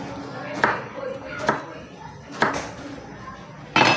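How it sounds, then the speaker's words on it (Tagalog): Knife chopping patola (sponge gourd) on a board in a home kitchen while cooking Ilocano chicken with bagoong and sotanghon, with three distinct, evenly spaced strikes and a sharper final knock, close and moderately loud. "hiwain na po natin yung ating patola"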